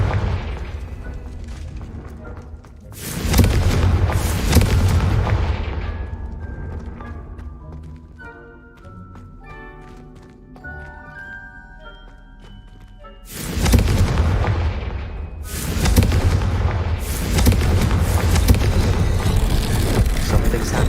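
Confringo spell blasts in Hogwarts Legacy go off as loud, booming explosions with rumbling tails, in two bursts separated by a quieter stretch of game sounds and music.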